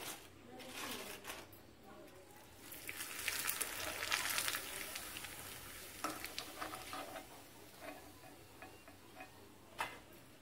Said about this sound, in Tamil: பார்த்தீங்களா நல்லா அழகா பொரியும்.